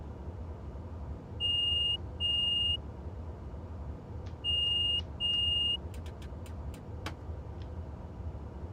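A train cab alarm in Train Simulator 2022 sounds in two pairs of sharp electronic beeps, separated by a short gap, followed by a few quick clicks over a low engine hum.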